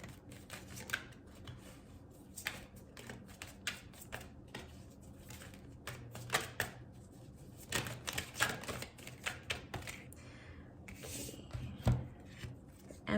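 Tarot cards drawn from a deck: soft, close rustles, flicks and slides of card stock in irregular bursts over a low, steady room hum.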